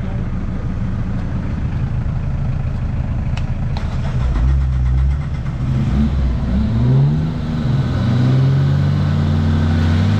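A 4x4 off-road vehicle stuck in mud revs its engine loudly and close, a steady rumble that rises and wavers as the revs climb and fall over several seconds.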